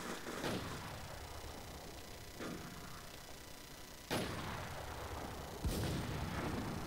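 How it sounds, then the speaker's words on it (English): Artillery strikes land in the War Inc Battlezone shooter game, four sharp booming impacts spaced a second or two apart over a constant low rumble of battle noise, with no talk. "artillery strike. That is nuts."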